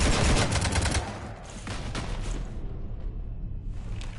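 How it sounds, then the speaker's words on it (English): Gunfire pours into a ship in Mass Effect 3, dense bursts of rapid shots and booms, loudest at the start, then continuing in scattered volleys over a rumbling background. "You want to stop shooting up my ship?"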